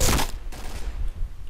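Gunfire in the shooting video game Point Blank, a short burst of rapid shots at the start fading into a quieter tail of further muffled reports.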